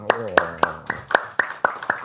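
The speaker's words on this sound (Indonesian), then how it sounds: "Tepuk tangan dulu dong." About eight sharp claps land in an even rhythm at close range, a small audience clapping together at a motivational talk.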